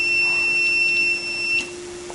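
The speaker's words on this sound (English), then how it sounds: "We have the alarm start sounding that there is water in the SFD" A diesel fuel purifier's alarm signals water in the fuel, a steady high electronic tone holding for over a second and a half before cutting out, with a constant mechanical hum underneath.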